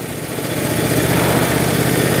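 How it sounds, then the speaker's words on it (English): A sawmill milling black walnut gives a loud, steady mechanical roar with an engine-like hum that holds at constant intensity throughout, with no talking. "It's pretty loud at the mill."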